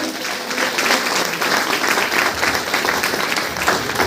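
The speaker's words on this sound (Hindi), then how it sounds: "जबरदस्त ताली होनी चाहिए सर के लिए" An audience at a meeting program in Basti, India gives a sustained round of applause, a dense, steady clatter of many hands at moderate loudness with no talk over it.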